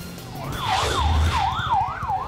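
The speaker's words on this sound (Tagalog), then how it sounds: "Sunod-sunod na nagdatingan ng mga ambulansya sa Gulod National High School, Mamatid Extension kaninang umaga." A wailing ambulance siren sweeps up and down in repeated cycles as emergency vehicles arrive at a high school, loud and near over traffic rumble.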